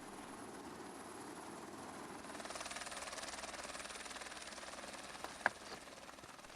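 A steady mechanical drone of a helicopter's rotor and engine at a distance over a mountain, swelling slightly louder partway through, with one sharp click near the end.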